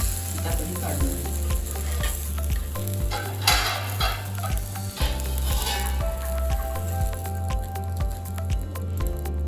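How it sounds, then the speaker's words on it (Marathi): Jowar flour dhirde frying in oil in a pan, a loud, continuous close sizzle with bursts of crackle and scraping stir noises, under a steady music bed. "दोन्ही बाजूने छान खमंग असे तेल भाजलेले आता आपण हे काढून घेऊ."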